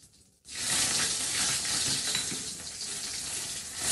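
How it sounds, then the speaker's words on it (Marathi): Mustard seeds and curry leaves crackle and sizzle in hot oil in a kadhai, a loud, busy frying hiss that bursts in after a short quiet start and holds steady with popping specks throughout. "मोहरी छान तडतडली की 3 ते 4 कढीपत्त्याची पाने"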